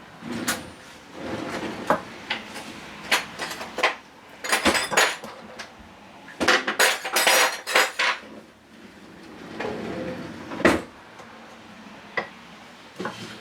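A metal spoon clinks and taps against an opened can, giving scattered sharp metallic clicks with quiet gaps between them, close by, with a few clustered bursts of rattling.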